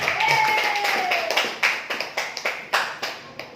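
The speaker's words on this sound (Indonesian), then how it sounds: "Beri tepuk tangan buat Bapak Ibu semua." Audience at a marketing seminar claps, starting under a voice and thinning into a handful of separate sharp claps toward the end.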